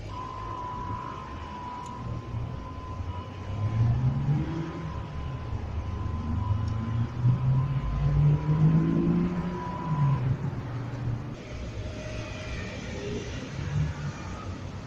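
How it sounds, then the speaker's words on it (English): A project car's engine is cranked on the starter after a full filter change, a droning mechanical whir and rumble that builds and wavers for about ten seconds before cutting off, without catching. "I think let's give it some spins with starter."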